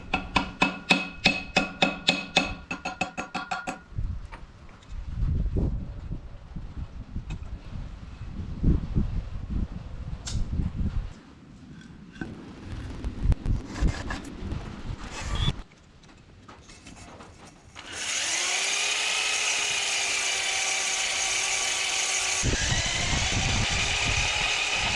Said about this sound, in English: We'll hone this side too.